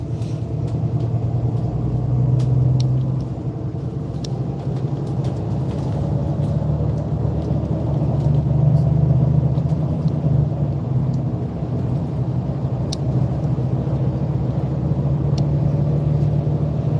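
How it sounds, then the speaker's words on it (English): A bus on a rail replacement service, fitted with a ZF or Voith gearbox, rumbles steadily with a deep, continuous engine drone and road noise from inside the cabin, swelling slightly midway through. "This is quite a good bus."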